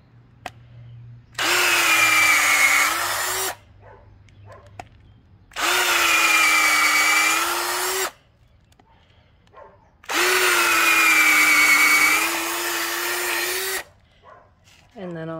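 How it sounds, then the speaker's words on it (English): A power drill bores into a log for growing shiitake mushrooms, running in three long, loud, steady bursts with short pauses between, and brief speech in the gaps. "drill a hole in between."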